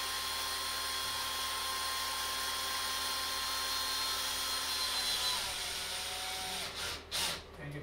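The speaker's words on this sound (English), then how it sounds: "Get that all set up and then carefully drill this into the lath." A DeWalt cordless drill drives a screw into wooden lath, giving a steady, close motor whine that holds for several seconds before winding down and stopping near the end.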